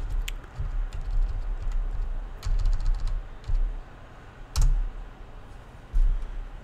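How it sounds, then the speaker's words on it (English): Computer keyboard keys clatter as a command is typed, close and clicky in short uneven bursts with small pauses between. "type the command one more time."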